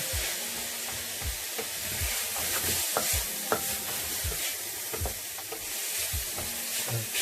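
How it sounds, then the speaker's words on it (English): Beef fricassée with dried mustard powder being stirred in a hot pan: continuous close sizzling with repeated spoon scrapes and stirs at an uneven rhythm, no talking. "give that a stir"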